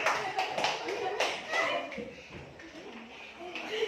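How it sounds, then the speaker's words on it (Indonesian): Schoolchildren in a classroom clap in scattered, uneven bursts, close and fairly light, with children's voices talking over and between the claps. "berikan tepuk tangan dulu"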